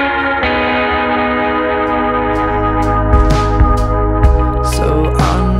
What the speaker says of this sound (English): I just love the spring reverb on that track particularly